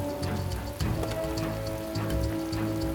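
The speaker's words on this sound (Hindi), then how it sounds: "जोरों की बारिश हो रही थी।" Heavy rain pours down in a dense, continuous wash of droplets, steady and loud throughout with no voices.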